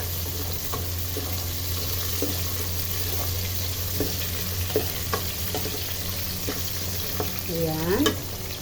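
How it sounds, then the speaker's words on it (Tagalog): Young ginger, bay leaf and garlic frying in a pan: a steady sizzle with intermittent stirring scrapes and clinks, a low constant hum underneath and a brief rising squeak near the end. "Una ay ilalagay muna natin ang ating young ginger. Sunod na natin ang laurel. Pwede na rin natin sunod ang ating garlic."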